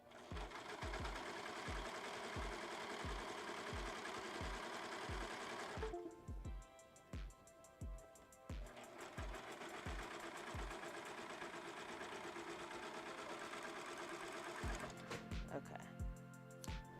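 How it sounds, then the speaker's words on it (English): A sewing machine stitches through several stacked layers of fabric, its needle thumping in a steady rapid rhythm that pauses and restarts, loud and close, with occasional speech alongside. "we don't want to sew too many layers together."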